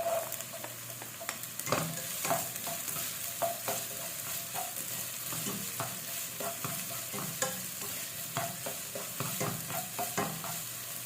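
Garlic and onion sauté in a hot pan, a continuous close sizzle broken by frequent clicks and scrapes of stirring, with no talking.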